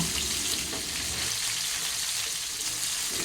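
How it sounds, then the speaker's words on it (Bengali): Parshe fish sizzle steadily in hot oil as they are turned to fry the other side, a constant crackling hiss with no talking. "এখন এই মাছগুলোকে আমি এক এক করে উল্টে দিচ্ছি উল্টো পিঠ ভাজার জন্য"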